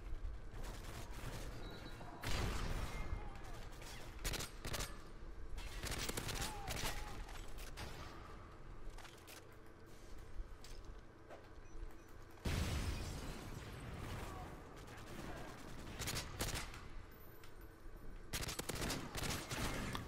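M16 assault rifle in Modern Warfare 3 gives dense, rapid gunfire in repeated bursts and volleys, with loud clusters of shots mixed with other battle noise at fairly low overall volume.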